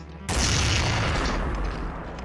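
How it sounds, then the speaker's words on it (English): A hexa shotgun in the Doom-engine game Zandronum fires one sudden loud blast that rolls into a long, booming decay, with faint game noise underneath. "Oh, that guy has a hexa shotgun!"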